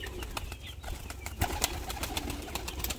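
Pigeons coo softly and flap their wings in a crowded loft, with repeated short wingbeats and low murmuring calls at moderate distance and no talk.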